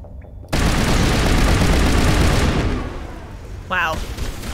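A gun in Mass Effect Legendary Edition fires a dense, loud automatic burst lasting about two seconds, followed by fading echoes and a brief voice near the end.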